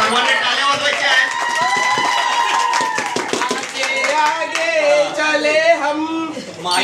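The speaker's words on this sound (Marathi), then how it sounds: "सर्वांनी टाळ्या वाजवायच्या आहेत." An audience claps at a felicitation ceremony during a Ganesh festival celebration, the scattered crowd clapping running underneath a person talking loudly over it.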